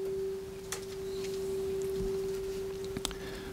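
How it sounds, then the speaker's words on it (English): A steady sine-wave test tone from a live sound reinforcement setup holds one pitch throughout, sounding over soft background hiss with a few faint clicks. "When we put the sine wave"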